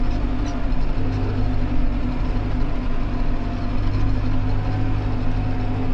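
A tractor engine runs steadily in a field during wheat sowing, a loud continuous low rumble with a strong droning hum throughout and no break in the noise.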